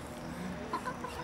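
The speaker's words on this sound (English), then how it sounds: "Chickens!" Chickens cluck in a few short, close bursts over a steady farmyard background, with no talking.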